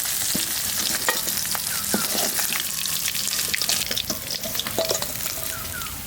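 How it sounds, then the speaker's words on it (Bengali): Fried koi fish sizzle loudly in hot oil while being lifted out, with steady crackling frying and scattered clinks and scrapes of a utensil throughout. "মাছ ভাজা হয়ে গেছে, তুলে নিচ্ছি।"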